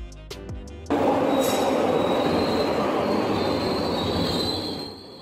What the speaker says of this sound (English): Subway train, similar to the metro train.